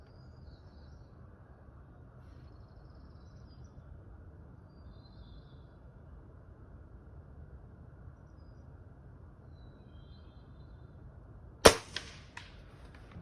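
A single sharp shot from a CFX air rifle fired at a target 35 yards away, a crisp isolated crack with a short ring-out standing alone against quiet outdoor background hiss.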